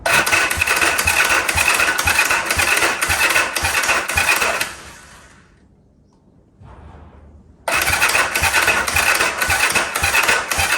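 A motorbike engine fires on ignition and runs with a loud, rapid, steady chug, cuts out into near silence for a few seconds, then catches again and keeps running.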